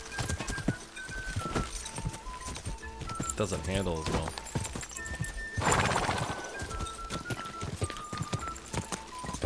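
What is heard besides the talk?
horse hooves galloping in the video game Kingdom Come Deliverance 2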